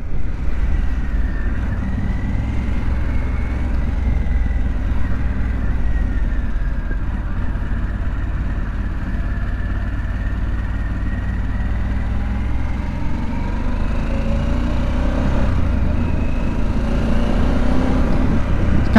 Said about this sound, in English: out here on the Pan America, this is a big bike.